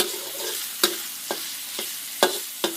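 Pork frying in a pan gives a steady close-up sizzle, broken by several sharp clicks and scrapes from a stirring utensil at irregular intervals. No one talks.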